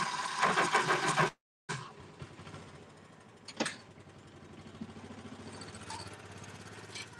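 An old utility mule engine cranks with a loud burst, cuts out briefly, then catches and settles into a rough, uneven idle with occasional clanks, heard close with no talking.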